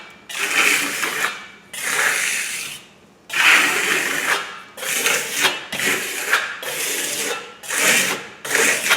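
A trowel drags across eco stucco on a wall in a series of long, loud, close scraping strokes, each a second or so long and separated by short pauses.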